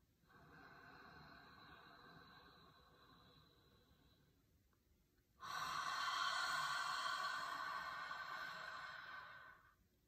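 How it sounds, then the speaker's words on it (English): Breath pushed out through the mouth during breathwork practice, a soft airy rush that swells and fades, followed after a pause by a second, louder and longer exhale that trails off, close and alone with no talk. "I'm going to breathe out of my mouth this time."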